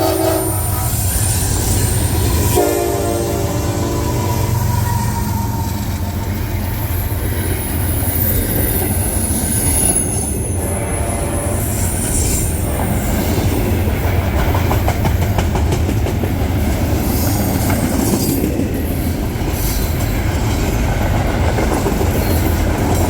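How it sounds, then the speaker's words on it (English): Freight train led by two NS locomotives with a CSX ES44AC trailing third, rolling past around a bend: loud continuous rumble and clatter of wheels and cars, with squealing wheels and a horn sounding early. "264 that came around the bend with a CSX ES44 AC trailing third behind two NS locomotives"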